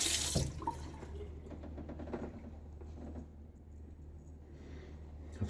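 Water running and trickling into a bowl of Rustic Sandalwood shaving soap, a soft steady splashing flow close by with a quick louder splash at the start, then a faint continuing trickle.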